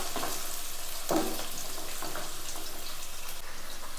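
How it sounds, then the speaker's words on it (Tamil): Finely cut medium onion sautés in a pan, giving a steady close sizzle and frying hiss with a brief stir partway through, no talking. "அதோட ஒரு மீடியம் சைஸ் ஆனியனை இந்த மாதிரி நைஸாக கட் பண்ணி சேர்த்துருக்குறேன். இதை லைட்டாக வதக்கிக்குவோம்."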